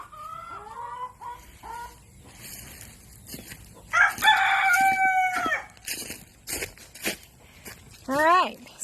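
Farmyard chickens cluck in scattered bursts while a rooster crows loudly near the middle and again briefly at the end, close by and mostly alone, with little talk.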